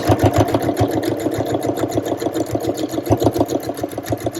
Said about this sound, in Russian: У нее есть функция шитье без педали. Вот я просто нажимаю кнопку, и она начинает шить.